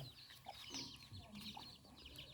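Hens on a farm cluck in short, scattered calls close by, fairly faint, with soft rustling around them.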